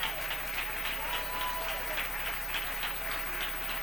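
A church congregation at a Spanish-language service claps in an even, rhythmic beat of repeated hand claps, moderately loud and lasting throughout with a roomy, crowd-like spread.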